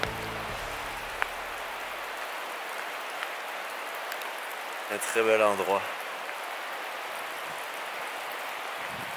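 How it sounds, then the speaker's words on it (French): Steady rain hisses through a humid forest of old cedars, a continuous wash of drops on leaves and ground. A person speaks briefly at the start and again around the middle. "Mais la pluie, on s'habitue progressivement à la pluie."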